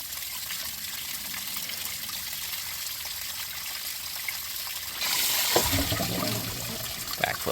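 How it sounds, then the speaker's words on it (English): Water back-flushing through the cooling system of a 1991 Dodge Caravan left sitting for over 19 years, a steady trickling flow that turns into a louder, splashing gush about two thirds of the way in, with no talk. "There we go, back flush it like that."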